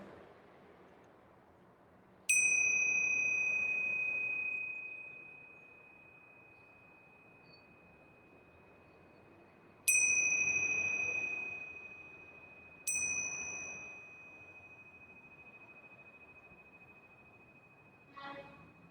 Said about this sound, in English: Listen for the sound of the bell again.